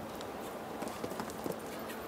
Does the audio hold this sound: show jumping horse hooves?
yes